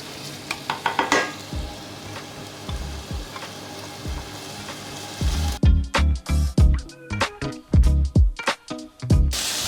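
Shallots and cauliflower florets hit hot olive oil, with a steady frying sizzle that turns into a busy crackle, punctuated by repeated stirring knocks and scrapes against the pan.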